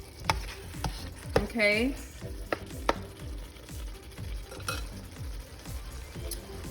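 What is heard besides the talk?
shrimp fried rice ingredients sautéing in a pan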